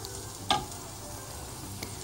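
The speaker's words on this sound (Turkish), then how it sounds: "Soğanımızı da ilave ettikten sonra şöyle bir karıştıralım." Onions sizzle steadily in a generous amount of oil in a pan, with a sharp clink of a utensil stirring them partway through and a fainter tap near the end.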